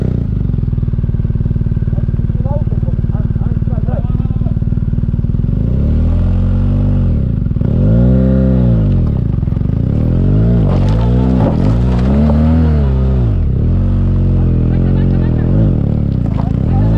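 The engine of a BMW R125 motorcycle revs hard while being pushed on a rough road in Bosnia and Herzegovina. It rises and falls in repeated loud surges close by, and people shout over it.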